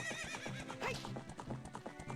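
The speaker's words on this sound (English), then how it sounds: "Epona, Link, get on the horse" Epona the horse galloping in The Legend of Zelda: Ocarina of Time, a quick steady run of hoofbeats with a whinny rising partway through, alone and close.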